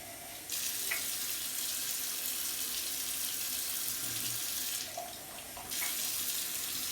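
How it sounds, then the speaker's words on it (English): Water from a tap runs into a clear jar, a steady hissing stream that stops briefly near the end before pouring again, close and fairly loud. "Now we're gonna cut the water on."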